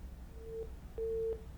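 Telephone busy signal from a caller who failed to connect to a live farming call-in broadcast: two steady electronic tone beeps, the second longer, heard over low background hum.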